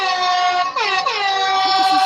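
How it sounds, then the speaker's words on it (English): O Canada played as a melody on loud truck-style air horns, sustained multi-tone blasts with shifting pitches, continuous and close throughout. "I think John Canada originally wrote it to be played on air horns."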